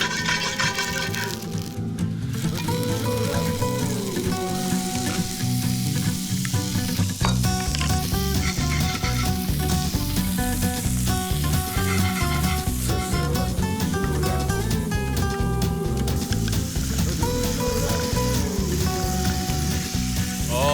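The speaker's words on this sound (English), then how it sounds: "You just want to cook it until the shrimp changes color" Shrimp sautéing in a pan with garlic and olive oil, a loud, continuous sizzle with crackles and occasional stirring scrapes, steady throughout with no pauses.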